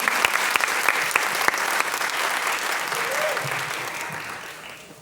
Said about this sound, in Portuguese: Batam muitas palmas para ela